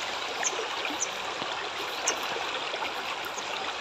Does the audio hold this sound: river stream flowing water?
yes